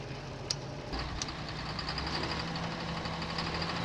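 An engine idles steadily nearby with a low rumble and faint rapid ticking, preceded by a couple of small clicks.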